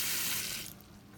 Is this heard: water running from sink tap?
yes